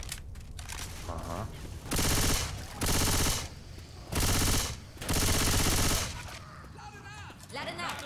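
Rapid bursts of Uzi submachine gun fire in Left 4 Dead 2, several loud sustained volleys separated by short pauses, with game sounds in between.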